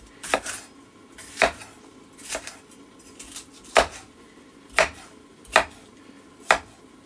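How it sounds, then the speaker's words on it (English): A knife chops vegetables into strips on a board for soup or chili, giving seven sharp, separate thuds at an uneven pace, close and clear over a quiet kitchen background. "let's cut these into little like strips"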